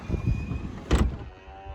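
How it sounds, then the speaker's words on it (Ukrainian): A car's doors shut by themselves with a short whirring motor sweep and a muffled thump, close and fairly quiet, with no talk. "І це в мене дві дві двері, чик, і вони такі. Самі зачиняються."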